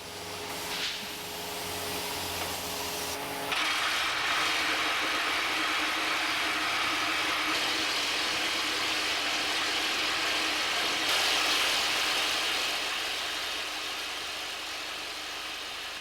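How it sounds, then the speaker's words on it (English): A roof cabling machine installing 20-metre cables in an underground mine at Broken Hill's North Mine runs as a loud, steady mechanical drone, with a harsher hissing layer joining in after a few seconds and continuing to the end. "This is accomplished by the use of rock bolts and roof cabling machines, which install 20-metre cables"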